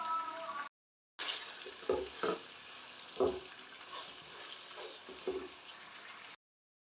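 Chicken pieces frying in a pan while cooking palak gosht, a steady hiss with a few louder stirring scrapes and clinks, close by, with no voices and a brief gap of silence near the start.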